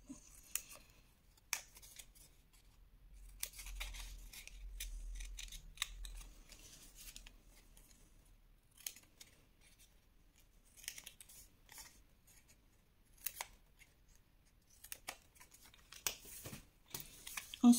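Scissors snip paper pieces for a scrapbook explosion box, with scattered sharp cuts and short runs of snips separated by quiet pauses.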